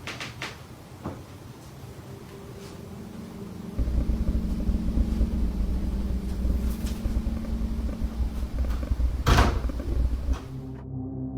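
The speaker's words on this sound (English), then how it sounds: "somehow, the door opens on its own." A door opens slowly on its own in a dark house at 3 a.m. There are a few soft knocks, then a long low creak and rumble, one sharp click, and the noise fades into quiet.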